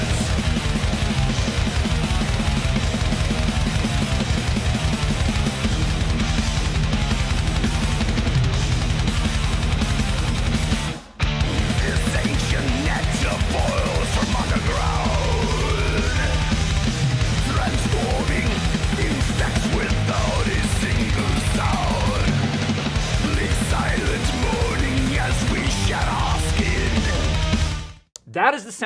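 Extreme metal from a supergroup: a dense, loud wall of distorted guitars, pounding drums and harsh vocals, continuous with one brief break midway.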